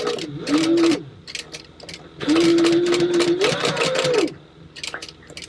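Sewing machine stitching a wallet seam, two long whirring runs of the motor with short starts and stops between, close and loud with no voices.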